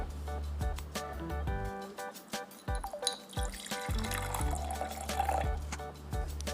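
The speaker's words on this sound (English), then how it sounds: "I will need some water in it." Water poured into a glass for a density experiment makes a close, bubbling, gurgling stream whose pitch shifts as the glass fills, with short breaks between pours.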